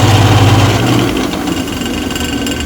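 Drill bit spinning into guitar wood to bore position markers, a short close whirring motor drone with a steady grinding buzz.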